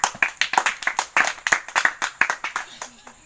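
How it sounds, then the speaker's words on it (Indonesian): A classroom group claps together after answering questions for a physical education quiz, a brisk run of close, sharp hand claps that fades slightly toward the end. "Tepuk tangan untuk kelompok 1."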